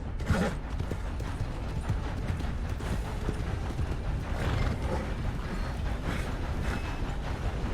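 A galloping horse in Red Dead Online pounds out continuous hoofbeats over a rumbling ground, with brief neighs breaking through, sustained and near for several seconds.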